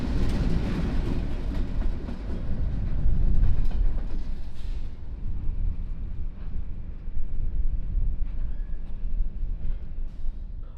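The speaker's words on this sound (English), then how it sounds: "this is CSX Y22001 backing up into Park Spur" CSX yard freight train Y22001 backing into a spur on a rail line, a steady loud rumble of railcars with clattering wheels and squealing, close by, no talk.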